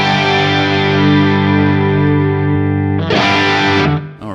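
Electric guitar through a Fractal Audio AX8 multi-effect pedal with heavy reverb: a loud sustained distorted chord rings out, then a fresh strummed chord crashes in and fades into a reverb tail.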